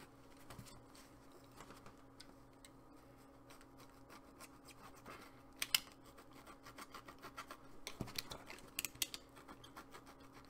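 A tool carves and rasps into a flexfoam head, scraping and rubbing in faint, uneven strokes with occasional sharper scratches, close up and quiet.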